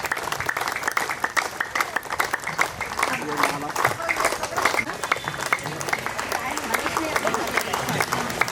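An audience at a foundation event in Jabalpur claps hard and continuously, a dense, energetic roll of many hands that holds for over eight seconds while voices call out underneath.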